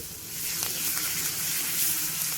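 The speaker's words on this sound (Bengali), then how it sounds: "প্রথমেই দিয়ে দেব পেঁয়াজ কুচি" Chopped onion dropped into hot oil after curry leaves, a steady bright sizzle of frying that holds evenly, close and fairly loud, with no talking.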